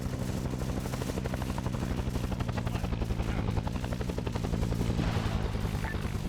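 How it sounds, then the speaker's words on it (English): Distant artillery fire in a Vietnam War combat game set around Long Tan, with a steady helicopter rotor drone and repeated rumbling blasts and crackling shots layered throughout, continuous and moderately loud. "Had to have been artillery"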